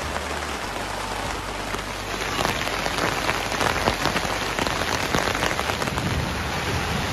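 Steady rain falls on a family campsite with a tent and tarp, a dense, continuous hiss that swells a little heavier after the first two seconds, with no voices.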